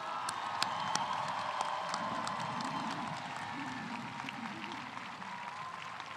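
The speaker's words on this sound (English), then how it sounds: "Can we give our seniors a round of applause" Sustained applause from a graduation crowd in bleachers honoring graduating seniors, steady and moderately distant, with scattered cheers and whoops rising over the clapping throughout.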